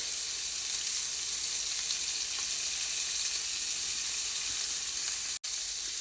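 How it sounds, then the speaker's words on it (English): Steak sizzles in butter in a cast iron skillet, a loud continuous hiss and crackle that holds steady for several seconds with one brief dropout near the end; nobody speaks. "I'm going to add some butter to my cast iron skillet"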